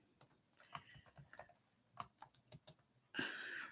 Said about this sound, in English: I'm getting ready to type